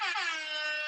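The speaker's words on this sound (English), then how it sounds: "Kristina, can you give him the air horn one more time?" An air horn sound effect on a live talk show blasts as one loud, continuous, brassy honk lasting about a second, alone and close.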